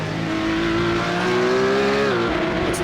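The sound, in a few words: Porsche Cup race car accelerating in sim racing video game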